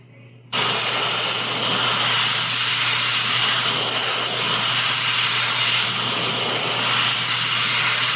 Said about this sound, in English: I'm airbrushing off the side of my bench